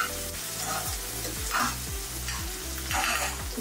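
Onions fry in a pan, a steady close sizzle with regular scraping stirs of a spoon repeating every half second or so, and no voices.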